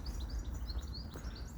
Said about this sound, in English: You can hear the birds, which you couldn't in December